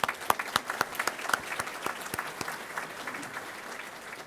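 An audience at a Good Scout Award evening breaks into applause, with clear individual claps at first that blend into a steady, moderate round fading slightly toward the end.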